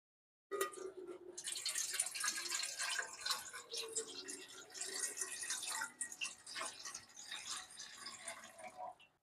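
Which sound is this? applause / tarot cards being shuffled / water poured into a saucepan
water poured into a saucepan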